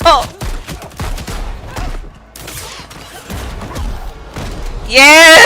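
Rapid bursts of double pistol gunfire from a video game crack and thump in quick volleys with chaotic game sound, while people talk over the action and a loud whistling burst closes it out.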